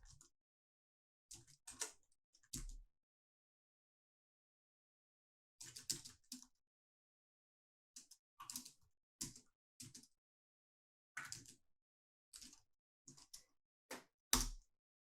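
Keys clatter on a computer keyboard in short bursts of quick clicks separated by pauses, fairly close and quiet in an otherwise silent room.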